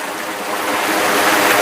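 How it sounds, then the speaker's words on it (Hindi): Loud, close rushing water of the Choral River near Indore, a steady broadband flow that grows slightly stronger, with no voices. "इसकी कल कल बहती हुई धारा।"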